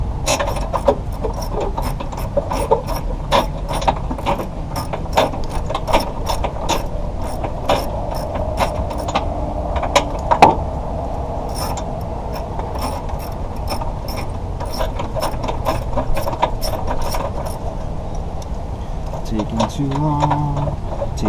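10mm ratchet tightening a battery terminal on a 2008 Honda Civic, with a long series of close, rapid clicking bursts and pauses, partly under talk.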